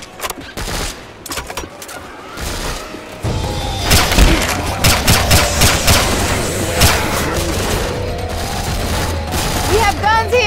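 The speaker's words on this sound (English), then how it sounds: "Quit freaking shooting!" Heavy gunfire in the zombie shooter Left 4 Dead 2, a custom campaign with eight survivors, sustained automatic bursts and booms that swell loud after a quieter start, with players talking faintly under the shots.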